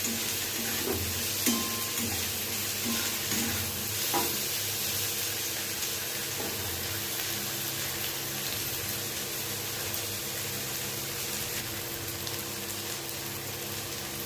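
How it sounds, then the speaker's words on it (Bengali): Chopped onions sizzle and fry with brinjal in hot oil for a Bengali katla fish curry, a steady close crackle with occasional stirring clinks and no talk. "এর মধ্যে দিয়ে দিলাম পেঁয়াজ কুচি। পেঁয়াজটা দিয়েও আবারও একটু ভাজা ভাজা করে নেব।"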